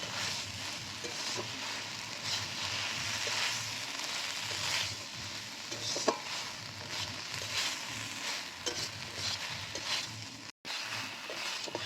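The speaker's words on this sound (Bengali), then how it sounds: "এবার আমি সয়াবিন মশলা ভালো করে কষে নেব।" Soybean masala fries in a pan while being stirred, a close, steady sizzle broken by scraping stir strokes and a brief drop-out near the end.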